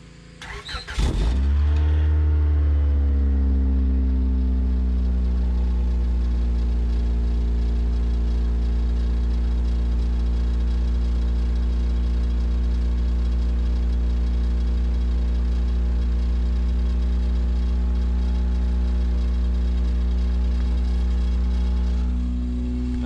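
A 1991 Honda Prelude Si with a rusted-out exhaust cold-starts after two days sitting: a brief cranking burst, then a loud, steady idle that drones on evenly, heard from behind the car with no talk.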